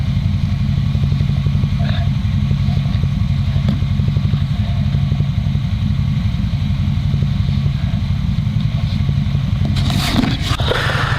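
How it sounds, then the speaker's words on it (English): A Dnepr motorcycle with sidecar idles loudly and steadily in winter, its engine thrumming close by, then revs and clatters as it pulls away near the end. "it's time to ride this motorcycle."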